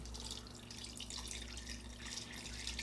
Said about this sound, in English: I'm going to rinse off all the banana peanut butter goodness that happens to be on our potato masher.